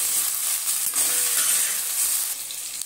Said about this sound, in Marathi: कोबीलाही थोडा फ्राय करून घेऊ, मग काढून घेऊ।